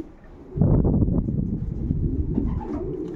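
Homing pigeons cooing at a Silesian racing pigeon loft in Gliwice, low soft coos rising after a quiet start and continuing in overlapping murmurs, close to the microphone with slight wind noise.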